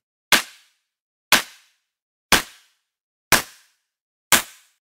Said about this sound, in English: and we're going to sweep through the frequencies till we can find that it's adding a bit of a presence that is a positive change.